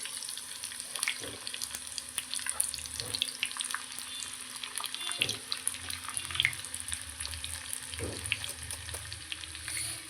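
Cumin, chopped garlic, a little ginger and dried red chillies frying in about a spoon and a half of oil for a hotel-style dal tadka, a steady close sizzle crackling throughout with a few soft stirring knocks.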